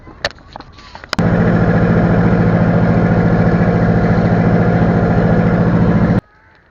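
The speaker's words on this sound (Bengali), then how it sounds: "কারণ ছেড়ে দিচ্ছে আমাদের ট্রলার।" A trawler boat engine on the river at Guwahati, heading toward Umananda island, suddenly starts up loud and close, then chugs steadily for about five seconds before cutting off. Faint background voices come before and after the run.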